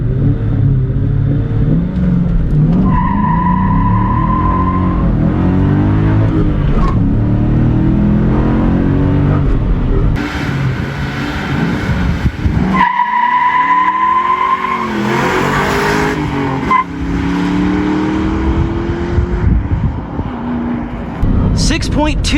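A 1997 Ford Mustang Cobra SN95 accelerates hard from a stop through the gears in a 0-60 mph run. The engine is loud and close, with brief tire squeal and gear shifts, and a voice talks over it.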